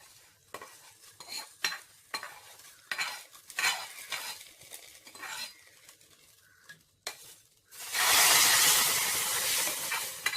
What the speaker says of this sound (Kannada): ಈಗ ಒಗ್ಗರಣೆಯನ್ನು ಅಲಸಂದೆ ಕರಿಗೆ ಹಾಕೋಣ.